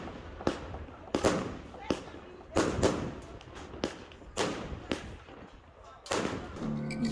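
New Year fireworks and firecrackers go off in a run of sharp bangs and deeper thuds at irregular intervals, moderately distant, under a voice talking.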